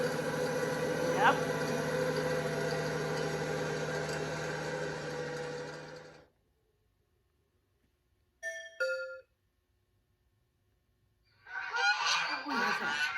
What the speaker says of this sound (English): Yeah, that's a goose.